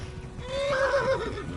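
A horse in the video game Kingdom Come: Deliverance gives a clear, loud whinny with a wavering pitch, rising and trailing off over about a second, with no talk over it.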